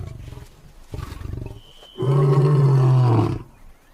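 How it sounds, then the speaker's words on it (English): A lion roars in a wild park: a few short lead-in grunts, then one deep, loud, sustained roar lasting over a second before it fades. "as soon as lions roar in this park, they all listen"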